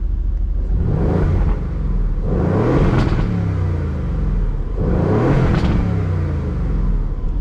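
An Aston Martin engine revs hard from standstill several times in loud, rising surges, each climbing to a high whine before dropping back to a throaty idle.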